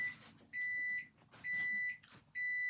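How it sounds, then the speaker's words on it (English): A microwave oven sounds three long, steady high-pitched beeps with short gaps between them, heard from across a room while a person talks softly in the background. "That's the microwave, not a bomb."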